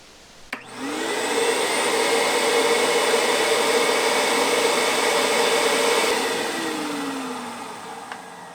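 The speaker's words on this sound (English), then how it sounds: "So we gotta vacuum that sucker out." A shop vacuum switches on with a click and roars steadily as it sucks pooled oil out of a spark plug well on a BMW N54 engine, a loud, close whine that holds for several seconds before spinning down.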